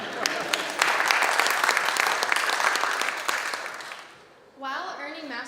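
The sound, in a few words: applause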